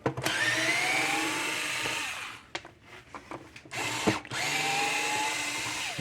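Power drill backing screws out of the casing of a broken Gallagher M1000 fence energizer, two loud whirring bursts of steady motor whine separated by a short pause with small clicks.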